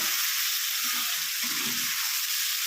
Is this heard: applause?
no